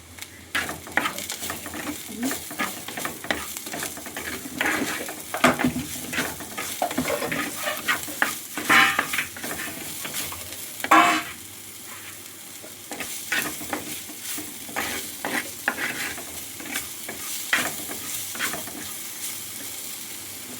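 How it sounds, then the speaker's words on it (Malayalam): Anchovy peera with salt and curry leaves stirred in a pan, repeated scraping strokes of a spoon over a continuous sizzle, close and fairly loud, with a sharper clatter around the middle. "ഉപ്പ് മാത്രമല്ല, കുറച്ച് കറിവേപ്പിലൂടെ ചേർത്ത് നല്ലതുപോലെ ഒന്ന് ഇളക്കി യോജിപ്പിക്കാമേ."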